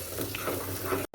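Palak paneer being stirred in a pan: a steady close sizzle with soft scraping and bubbling that runs continuously, then cuts off abruptly at the end.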